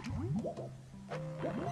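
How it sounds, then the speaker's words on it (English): Water rising in the Banjo-Kazooie video game, heard as loud, bubbly, squishing gurgles that swell and dip repeatedly over a steady tone, with no speech. "I don't know why it raises the water level"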